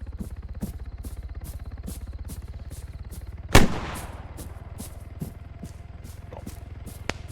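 Gunfire in the military shooter ArmA 3: a steady rapid mechanical pulsing runs throughout, broken midway by one loud sharp report with a trailing crack, then faint scattered pops afterward.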